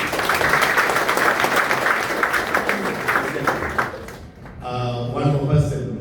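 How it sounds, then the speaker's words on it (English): An audience at a career talk claps in a dense, steady round of applause that dies away after about four seconds, then a voice speaks over the room. "Let's give him a round of applause."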